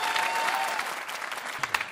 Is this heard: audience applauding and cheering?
yes